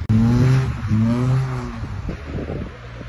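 A drifting car snarls with a loud, close engine whose pitch rises and falls in long sweeps, then breaks into rough, rattling bursts of revving, with no talk.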